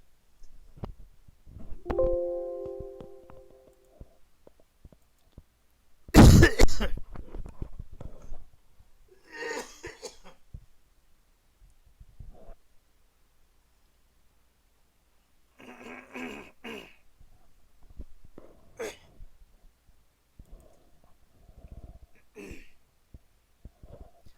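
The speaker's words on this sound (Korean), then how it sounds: "미안합니다. 자꾸 기침이." One loud, sharp cough stands out, followed by quieter throat sounds and scattered small noises separated by stretches of near silence.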